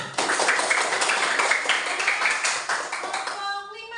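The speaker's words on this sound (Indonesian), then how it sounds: "Bisa berikan tepuk tangan." Applause from a primary school class during a grade 6 civics lesson, many small hands clapping steadily and fairly close for about three seconds, with faint voices mixed in before it thins out at the end.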